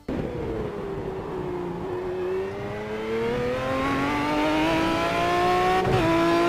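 Onboard an Aston Martin GT1 race car on a qualifying lap at Laguna Seca, engine loud and close, revs climbing steadily through the gears, then a sharp shift near the end.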